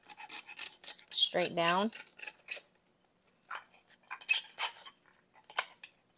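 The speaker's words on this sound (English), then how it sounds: "And this is how you crack it open. Use a sharp knife." A sharp knife tapping and scraping against the shell of a salted duck egg, a string of close, gritty clicks and rasps with short pauses, and a voice speaking briefly in between.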